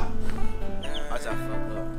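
Newly hatched chicks raised indoors peep and cluck close by, with brief high chirps over a busy, loud background that sounds like voices and household noise.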